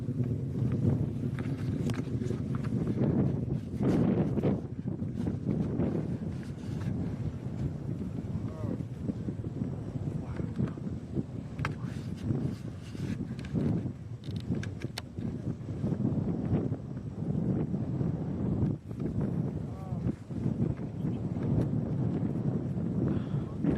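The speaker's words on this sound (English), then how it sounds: "gorgeous and loud start to Falcon 9's journey" A SpaceX Falcon 9 rocket roars continuously through ascent past max Q, a steady broadband rumble heavy in the low end, with wind buffeting and voices talking over it throughout.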